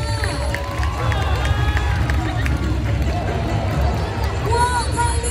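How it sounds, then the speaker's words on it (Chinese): A crowd at a Sichuan opera face-changing show at the Kinmen star festival applauds and cheers, with excited screams and babble over a dense, continuous wash of noise. "掌声加尖叫声！"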